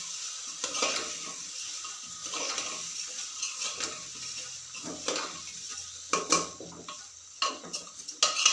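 A spoon stirs rice, lentils and spices for masala khichdi in a pot, giving soft scraping and light sizzling with occasional sharp clinks against the metal, growing busier and louder toward the end.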